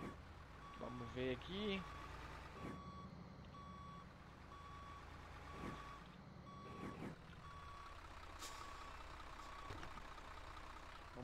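Reversing beeps from a Volvo FH truck in Grand Truck Simulator repeat at a steady pace over engine rumble and air-brake hisses, while someone talks briefly near the start.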